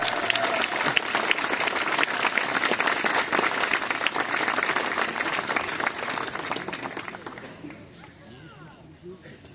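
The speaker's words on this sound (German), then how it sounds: "Klatschen." Audience applause at a cosplay show contest at a comic convention, dense steady clapping filling the hall for most of the stretch before thinning out and fading near the end.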